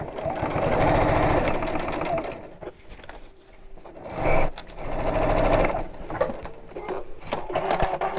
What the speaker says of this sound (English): just sew all the way around